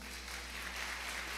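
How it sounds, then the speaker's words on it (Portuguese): A church congregation applauds together in one dense, steady wash of clapping that holds throughout the short stretch, with no break and no speech on top. "Você pode aplaudir o Senhor por isso?"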